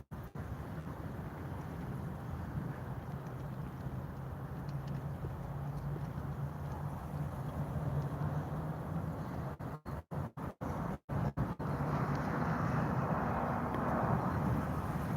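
Strong, steady wind roars outdoors at an airfield where planes are being photographed, a broad rushing low rumble with gusts buffeting the microphone and brief dropouts near the middle.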